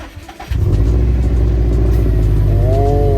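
A Subaru WRX STI engine with about 2,300 km on it cranks briefly and then catches, settling into a loud, steady idle close by.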